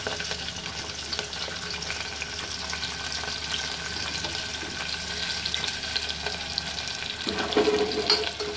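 Onions and curry leaves sauté in a pan with whole spices for a chickpea curry, giving a steady, fairly quiet sizzle throughout, with a slightly louder burst of stirring or added ingredients near the end; no one speaks.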